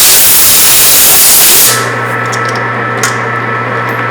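Compressed air blasts oil off a metal part in a loud, close, broadband hiss for about a second and a half, then cuts off, leaving a steady low machine hum.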